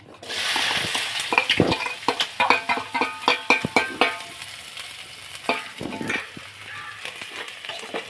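Onions hit hot oil in a pan and fry with a crackling sizzle, broken by a run of rhythmic scraping stirs that fade toward the end; no speech.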